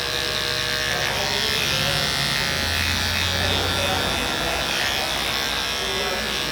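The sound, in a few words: detachable-blade electric hair clipper buzzing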